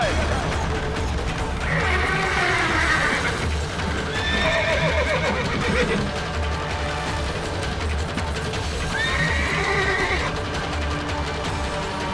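A panicking horse being restrained by soldiers in a historical drama neighs loudly several times while its hooves clop and stamp, amid a dense, busy background with voices.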